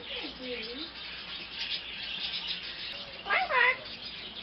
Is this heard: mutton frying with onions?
no